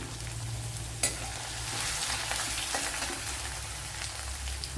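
A small piece of ginger and garlic frying in a pan, giving a steady close crackling sizzle, with a sharp tap near the start and another knock at the very end.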